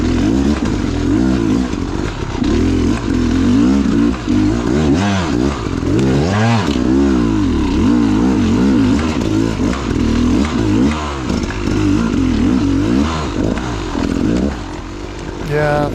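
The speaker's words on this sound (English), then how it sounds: "thank God I was on a 2-stroke" A two-stroke dirt bike climbs a rocky trail in a state park, its engine revving loud and close with constant throttle blips and rattling over rocks throughout.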